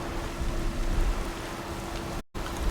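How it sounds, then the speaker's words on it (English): Heavy rain pours in Horizon, the video game, a dense steady hiss of downpour that cuts out briefly for an instant before resuming. "look at this rain"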